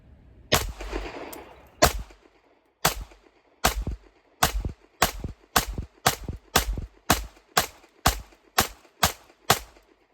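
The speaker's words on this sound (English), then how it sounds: "Squeezing a shot off as soon as I see it." A CZ Shadow 2 Compact pistol fires about fifteen loud, sharp shots outdoors, spaced in a steady rhythm with short pauses, each crack close and followed by a brief decay.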